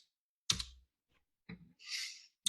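A few separate clicks and taps on a computer keyboard, heard as short isolated bursts with silence in between and one softer rustling stroke, close and fairly quiet.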